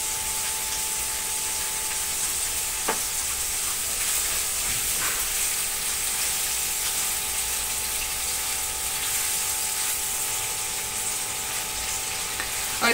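Oil sizzles and hisses in a pan, heated for cooking beef liver with garlic, a steady loud frying crackle throughout with a couple of brief sharper pops.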